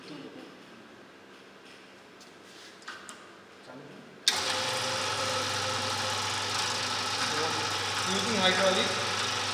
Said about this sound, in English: So now we will start the compressive testing machine.